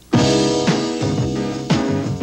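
Music played back from a TDK audio cassette, full band with strong repeated hits roughly every half second, loud and continuous with no voices over it.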